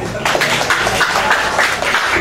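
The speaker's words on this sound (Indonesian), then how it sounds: "Tepuk tangan untuk beliau" An audience at a cultural evening event applauds a regency culture office head, a short dense burst of clapping filling the whole moment at close range.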